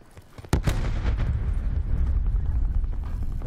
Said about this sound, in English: Somebody just took a shot at us?